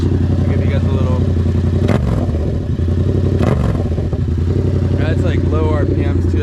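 A 2024 Yamaha MT07 motorcycle with a newly installed exhaust idles with a deep, steady low rumble and rises in brief revs, loud and close, while someone talks over it.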